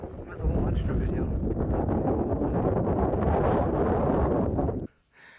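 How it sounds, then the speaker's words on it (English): Strong wind buffets the microphone outdoors near the Grand Teton, a loud continuous low roar and rumble that drowns everything for about five seconds, then drops off abruptly at the end. "It's just very windy over there."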